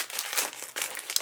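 Birthday wrapping paper crinkles and rustles in close, irregular bursts of crisp crackling, with brief pauses between handling movements and no voices.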